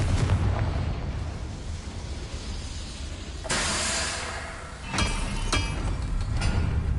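Confringo fire spell from the Hogwarts Legacy video game, exploding in a series of fiery hissing bursts. A sharp, loud blast lands mid-way, followed by two quicker pops over a rushing, roaring background.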